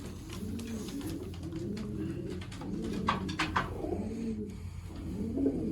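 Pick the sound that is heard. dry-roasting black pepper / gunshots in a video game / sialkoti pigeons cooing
sialkoti pigeons cooing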